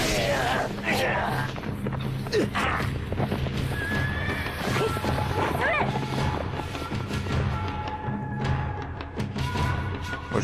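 A horse whinnies and its hooves clip-clop in Genji: Days of the Blade, with the neighs standing out over a dense, steady bed of game sound and music.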